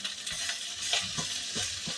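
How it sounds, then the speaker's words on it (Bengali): Chopped garlic sizzling in a pan with green bananas and pointed gourd, stirred with a few scraping strokes over a steady close frying hiss, with no talk. "রসুন কুচিটা একটু নেড়ে নিই, খুব বেশি নাড়তে হবে না"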